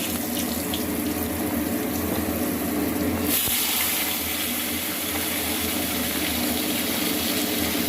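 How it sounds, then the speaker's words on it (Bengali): Potatoes with skins on go into a thin Bengali katla fish curry broth, and a steady rushing, watery wash like running liquid fills the scene, loud and continuous without any talk. "তো আমি আলুগুলো দিয়ে দিচ্ছি।"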